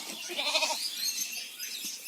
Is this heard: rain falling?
no